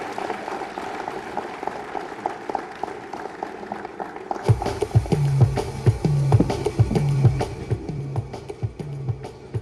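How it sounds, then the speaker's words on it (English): Audience applauding as an award goes to Edo State Governor Godwin Obaseki at a ceremony: diffuse clapping at first, then louder, nearer claps and bumps join in over a continuing background murmur. "A big round of applause"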